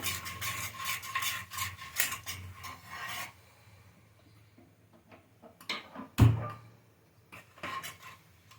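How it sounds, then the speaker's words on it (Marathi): Spoon scraping and stirring chili powder into cooked ash gourd in a pan, a steady rasping rub at first, then quieter scattered scrapes and one sharp knock. "आता याला छान मिक्स करून घ्यायचं आपल्याला"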